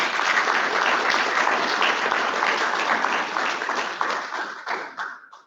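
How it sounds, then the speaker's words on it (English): An audience at an Advent celebration applauds in a dense, steady burst of clapping that thins out and fades to scattered final claps near the end. "So can we give them a big clap?"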